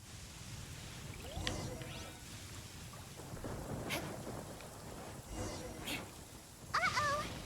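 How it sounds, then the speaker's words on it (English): A lightning storm in the video game Genshin Impact brings rolling thunder and rain noise, with rumbles swelling and fading under game character voices talking throughout. "Uh-oh! Lightning storm!"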